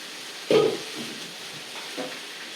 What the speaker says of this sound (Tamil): இது நல்லா வதங்கணும். இந்த எண்ணெயில் வதங்கணும்.